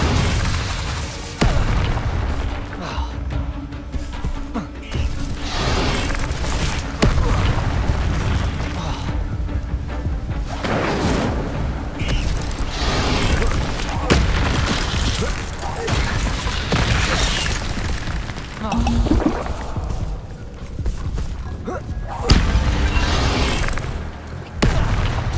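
The Incendio fire spell is cast again and again in Hogwarts Legacy, each cast a booming, roaring burst. They come in a steady series over dense, loud combat noise, with voices shouting in between.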